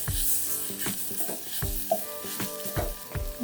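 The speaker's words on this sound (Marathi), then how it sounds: "हा मसाला आता छान मिक्स करून घेणार आहोत आपण आणि त्याची परतून घेऊया" Ground masala for Khandeshi-style kadhi being sautéed and stirred in a pan, steady sizzling with repeated close scraping strokes of a spoon, no talk.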